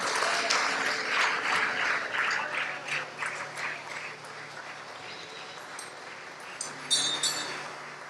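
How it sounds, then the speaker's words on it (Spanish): A church congregation applauds for Christ in dense, sustained clapping that gradually thins and fades, with a brief clink and a burst of cheering or whooping near the end. "Démosle un aplauso a Cristo"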